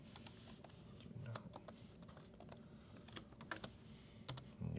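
Quiet typing on a computer keyboard while entering label text in Brother P-touch software for a QL-800 printer, scattered light key clicks in short irregular runs.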